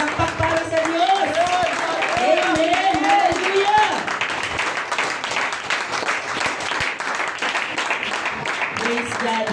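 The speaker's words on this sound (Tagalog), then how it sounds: "Palakpak para sa Diyos!" A church congregation at a Sunday school service claps and cheers in praise, with sustained dense applause mixed with shouted exclamations and singing-like voices at the start.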